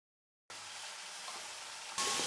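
Boiled carrots hitting hot oil in a pan with curry leaves, an abrupt steady sizzle that swells louder near the end, close and with no voices.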